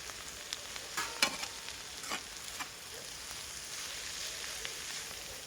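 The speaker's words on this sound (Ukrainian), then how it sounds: "До цибульки додаю буряк та моркву. Усе перемішую." Beets and carrots added to onions sizzle gently in a pot over a campfire while a spoon scrapes and stirs a few times, close and quiet.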